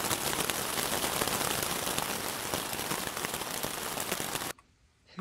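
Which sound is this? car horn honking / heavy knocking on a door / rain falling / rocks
rain falling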